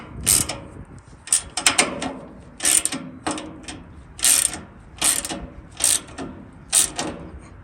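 A ratchet clicks in repeated short bursts while tightening bolts during assembly of a Char-Griller Grand Champ XD offset smoker, with sharp, close metallic strokes at a steady rhythm.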